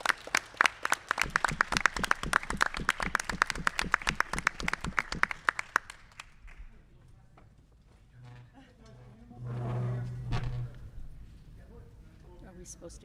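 Room of people at a school board of education meeting giving a steady round of applause, crisp dense claps lasting several seconds before stopping abruptly, followed by quiet murmured talk.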